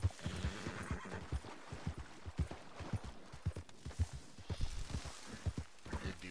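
Horse in the video game Red Dead Redemption 2, with a repeated rhythm of hoof clops through most of the stretch and brief whinnying bursts near the start and end.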